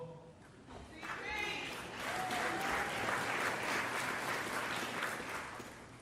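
An audience at a Basketball Hall of Fame enshrinement speech breaks into sustained applause that swells and holds, with a voice speaking over the clapping.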